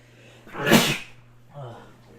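A single sharp sneeze bursts out loudly, followed a moment later by a softer, brief vocal sound.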